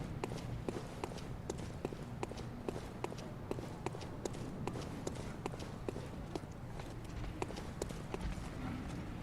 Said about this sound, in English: The big guy, I think, is who we're hearing stomping around.